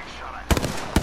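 Gunshots in the video game Apex Legends: a quiet lead-in, then a loud burst of rapid shots and a second sharp burst moments later.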